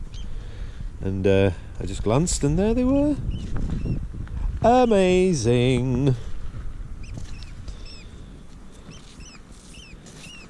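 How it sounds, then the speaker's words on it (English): A bird calls in short bursts of harmonic, squawking notes close by, with someone speaking quietly in between and faint chirps in the background. "I was listening to the mama bird calling there"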